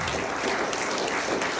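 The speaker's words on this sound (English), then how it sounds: "A round of applause to the three groups who put this together tonight" Brief applause from the audience at a mayoral transport debate for the event's organisers, a continuous, fairly faint wash of many hands clapping across a large room.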